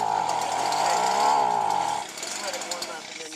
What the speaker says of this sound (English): back the choke off just a little after it starts